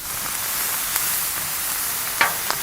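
Shrimp sizzle in beef fat on a Blackstone griddle with a steady, close hiss of frying, broken by a couple of sharp spatula taps near the end.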